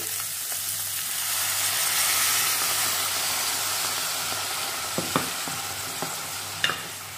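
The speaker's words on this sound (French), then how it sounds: "Là, je vais rajouter un peu d'eau." Water poured into a hot pan of sticky sugar and salted dried tilapia makes a broad hissing sizzle that swells and settles, with a few sharp utensil clicks near the end.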